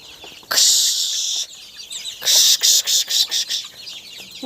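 Farmyard chicks and ducklings call in shrill, high peeping bursts, one long run followed by a rapid series of short cheeps, close by with no talk.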